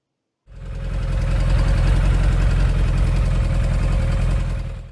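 A Kawasaki ZZR1100 motorcycle engine idles after a valve clearance adjustment, starting abruptly and holding a steady, even, close rumble without ticking for several seconds.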